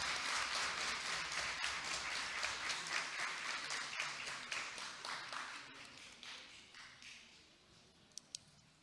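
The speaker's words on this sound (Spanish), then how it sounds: "Un fuerte aplauso para ellos, por favor." A crowd applauds steadily, the clapping fading gradually toward the end, leaving a few scattered claps and faint noises.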